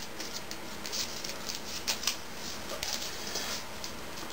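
Origami paper flaps being folded while making a chocobo model: soft, faint rustling and light crinkles of paper, close by, with a few slightly sharper creases.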